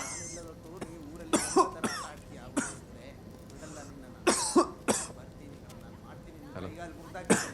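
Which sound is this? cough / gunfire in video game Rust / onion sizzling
cough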